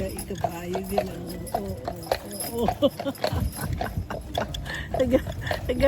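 Horse hooves clip-clop steadily on pavement in the Bavarian-style town of Leavenworth, Washington, a carriage ride under nearly constant nearby chatter from riders.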